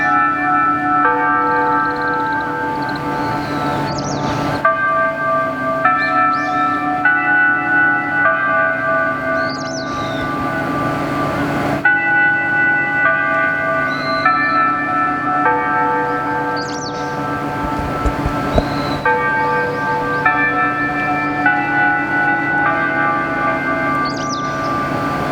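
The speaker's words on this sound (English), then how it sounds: "There's the 12 o'clock bells" Church bells in Tokyo ring the twelve o'clock hour with a sustained, layered chiming melody, steady and fairly loud, while birds chirp intermittently in the background.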